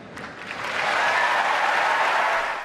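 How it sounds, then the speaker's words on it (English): Wimbledon spectators applaud honoured guests who developed COVID vaccines, a broad crowd ovation swelling from moderate to a sustained full roar. "As the applause rang out for Dame Sarah Gilbert and others who'd helped the COVID effort"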